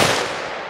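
A single loud, close gunshot fired outdoors in Alaska, a sharp blast that rings out and decays over a fraction of a second.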